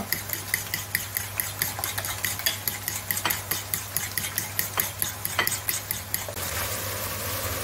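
Eggs and crème fraîche being whisked for a quiche, a fast regular rhythm of whisk clicks against the bowl lasting several seconds over a low steady hum, then stopping, with no voices.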